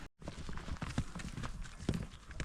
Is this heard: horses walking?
yes